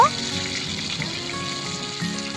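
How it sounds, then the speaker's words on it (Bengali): Rohu fish pieces frying in hot oil give a steady, moderate sizzle and crackle, with a short metallic clink at the start and no talking. "মাছের দুই দিক লাল লাল করে ভেজে নেব"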